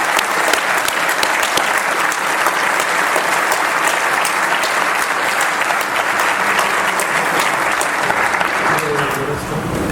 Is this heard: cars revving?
no